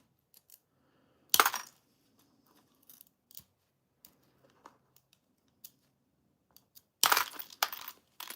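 Glass straws shattering during Vitragraph glass processing in a studio, with two sharp bursts of breaking glass followed by scattered tinkling fragments and small clicks between them, close and fairly loud, with no speech.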